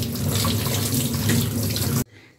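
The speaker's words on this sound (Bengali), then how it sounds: "ঠান্ডা জল দিতে হবে। এবার ধুয়ে নিচ্ছি।" Cold tap water running loudly over boiled chowmein noodles in a sink, a full, steady gush that cuts off abruptly near the end, leaving only faint room noise.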